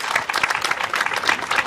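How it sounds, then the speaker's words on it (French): Audience applause at a public dedication ceremony for a square, a steady crowd of hands clapping evenly for under two seconds, moderately loud and without talk. "merci pour les applaudissements"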